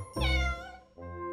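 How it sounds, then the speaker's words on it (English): A cat gives one loud, drawn-out meow close by, followed by a second, shorter and quieter meow. "Who is making that meow sound?"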